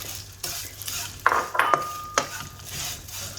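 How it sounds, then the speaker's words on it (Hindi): Thin vermicelli is stirred in a small amount of ghee over low heat: a soft sizzle beneath irregular spoon scrapes and a few ringing metallic clinks against the pan. "और इसके अंदर मैं सेमिया फ्राई कर लूँगी"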